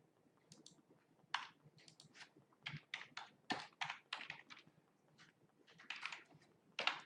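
Quiet, close clicking of a computer keyboard as a web address is typed, an uneven run of quick keystrokes with brief pauses between bursts.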